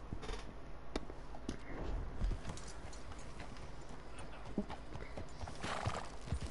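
Horse hooves clip-clop steadily in the western video game Red Dead Redemption, a close, rhythmic trot with a whinny, playing alone without talk.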